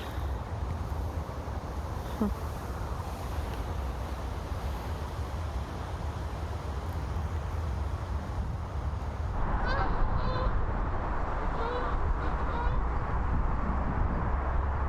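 Geese honk in the distance, a cluster of nasal calls over constant wind-like rushing noise, growing busier toward the end.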